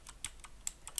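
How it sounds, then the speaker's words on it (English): Keys on a computer keyboard are struck in quick succession, about six crisp clicks in a second, close and clear with no voice over them. "here when we start typing"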